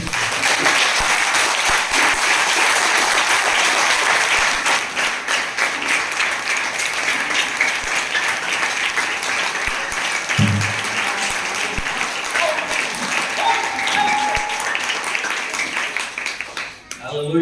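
Sustained, loud applause from a church congregation at a Christmas service fills the space continuously, with a dense wash of many hands clapping and a few voices mixed in near the end.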